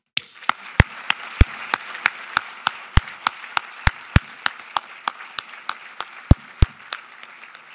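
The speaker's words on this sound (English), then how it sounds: "please join me with your applause in recognizing our graduates" Sparse, spaced claps ring out at a graduation ceremony for Naval War College graduates, each sharp crack distinct and fairly close, a thin scattered applause rather than a dense ovation, with no talking over it.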